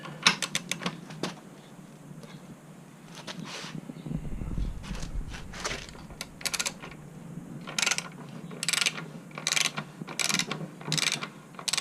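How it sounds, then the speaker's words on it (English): Torque wrench ratcheting on a motorcycle axle nut, bursts of sharp close clicks in quick runs with short pauses, fairly quiet. "I'm gonna use the big torque wrench."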